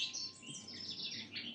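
Birds chirping from a video playing on a screen, a steady stream of high twittering calls, faint and slightly distant in a quiet room.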